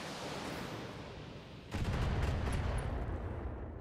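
Mech weapons in the BattleTech video game open fire in a heavy volley, a dense roaring barrage of blasts and impacts that swells suddenly and holds over a droning background.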